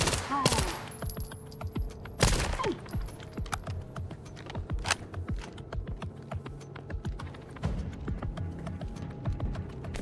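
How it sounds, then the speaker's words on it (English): Rapid bursts of light machine gun fire in an online shooter game, sharp cracks in uneven clusters at mid distance, mixed with keyboard tapping and scattered other game noises. "Someone has an LMG of some kind."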